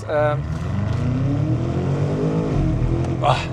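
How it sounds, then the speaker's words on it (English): A BMW M5 G90 with a BERK downpipe and Akrapovic exhaust revs with a deep, throaty rumble that rises and falls in pitch. Loud and close, with a short burst of noise at the end. "it's a very cool sounding exhaust setup"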